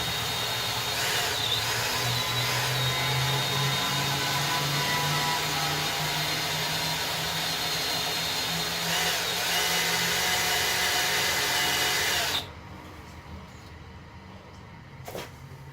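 Power drill boring with a drill bit, a continuous whining motor hum with grinding bit noise for about twelve seconds, then cutting off abruptly to near quiet with a brief clunk.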